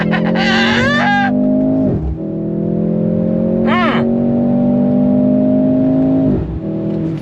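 A 2023 Mercedes-AMG C43 engine revs hard under throttle, rising in pitch through several paddle-shifted gear changes, with a brief sharp rev burst midway; loud and close.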